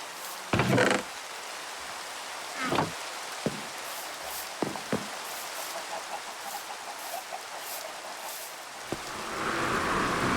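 Rain falling in Minecraft survival mode, a faint steady hiss interrupted by several sharp clucks and squawks from fowl, with the downpour swelling louder toward the end.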